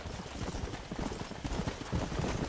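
Horse hooves pound in Red Dead Redemption near Hennigan's Stead, a dense, rapid clatter of galloping steps that stays close and loud throughout.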